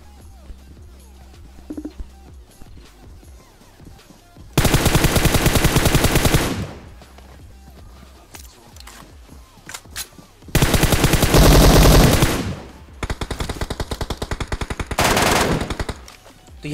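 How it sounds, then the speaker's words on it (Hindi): An AWM rifle and an M4 rifle fire in PUBG at a military base, with several loud rapid bursts of automatic fire set between quieter stretches of game ambience. "तभी ऊपर से फायर आता है कि भाई एक AWM चला रहा है, एक M4 चला रहा है"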